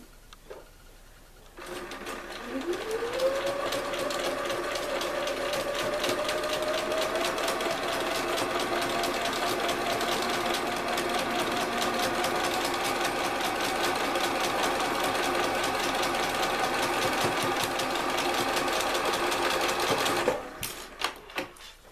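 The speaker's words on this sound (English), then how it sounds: "I've sewn on the two outside blocks." A sewing machine runs steadily for about eighteen seconds while stitching quilt blocks, a continuous close whirring hum with rapid needle chatter and a rising pitch as it starts up, then a few clicks as it stops.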